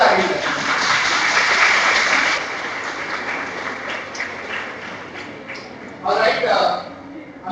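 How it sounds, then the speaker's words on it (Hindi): Lecture audience clapping loudly, a dense burst of applause that fades and then swells again briefly, with a voice speaking over parts of it. "इन सबके लिए जोरदार ताली"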